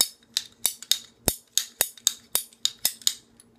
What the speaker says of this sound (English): I think it's called a ratchet pipe cutter